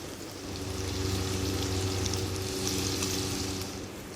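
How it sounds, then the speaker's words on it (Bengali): Paneer cubes fry in hot refined oil seasoned with salt and turmeric, giving a steady, close sizzle with a low hum underneath and no voices. "প্রথমেই কিউব করে রাখা পনিরের টুকরো। এটা নুন আর হলুদ দিয়ে ভালো করে ভেজে নিতে হবে।"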